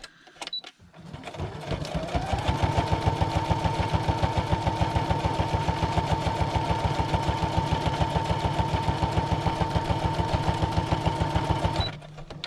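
A sewing machine stitches around the edges of a nature ephemera piece made from foraged plants, its motor humming in a fast, even needle rhythm for about ten seconds before stopping. The machine is close and steady.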